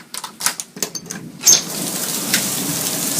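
Heavy thunderstorm rain pours steadily outdoors near a house, opening with a run of close, uneven spattering hits before settling into a dense, loud, continuous hiss.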